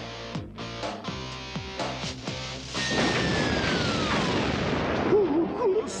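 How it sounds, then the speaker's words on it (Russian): Cartoon explosion as a stash of explosives goes off in an animated show, a loud burst that swells into a sustained, rumbling roar with crackling debris and falling whistles, following a few sharp musical hits. "мы решили тебе помочь и израсходовать часть твоей взрывчатки"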